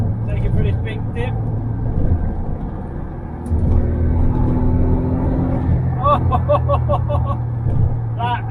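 Smart Brabus Roadster with a sports exhaust, driven through a dip: a steady low engine and exhaust rumble runs throughout, swelling as it accelerates, with faint higher chirps near the end.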